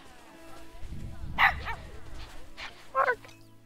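Puppies in the Planet Zoo video game give a few short, bright yips and barks, one near the middle and one near the end, over a low game background with some faint talk.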